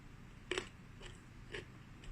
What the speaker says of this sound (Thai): อันนี้เรามากินน้ำพริกปลาทูป่นปลาทูนะคะ กินน้ำพริก